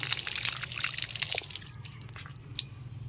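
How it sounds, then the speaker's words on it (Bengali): A ripe mango is rinsed under running water, with close trickling, dripping and splashing that shift as the fruit is turned and rubbed, no speech. "আমি আগে আমটা ধুয়ে নিচ্ছি"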